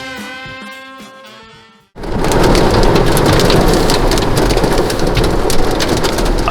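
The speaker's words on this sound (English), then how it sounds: "gloriously rainy day in New Orleans" Heavy rain pours down on a New Orleans street, beginning abruptly after a short stretch of quieter tonal sound, then a loud, dense, continuous roar of falling water with patter on surfaces.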